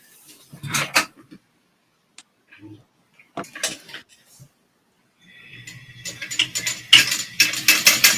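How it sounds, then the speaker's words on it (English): A sewing machine top-stitches fabric for a handmade bag, its motor whirring in a steady rhythmic run after several seconds of scattered clicks and handling noises, with someone talking early on. "And then I'm going to top stitch this and cut it in half."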